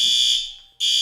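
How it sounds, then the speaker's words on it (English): A shrill, steady electronic alarm blares loud and close, cuts out briefly, then resumes at full strength with no other sounds around it. "Yep, we got an alarm here."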